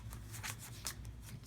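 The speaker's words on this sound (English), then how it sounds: "I will shuffle his cards." Playing cards are shuffled by hand during a tabletop board game, giving quiet, quick riffling flutters in close succession.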